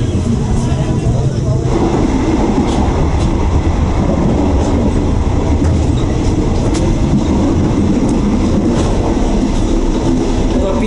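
Interior of a Thai electric passenger train riding at night: steady loud rumble and rattling of the carriage with occasional clacks from the rails, voices speaking over the constant noise.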